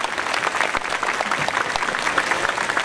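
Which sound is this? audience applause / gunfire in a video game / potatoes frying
audience applause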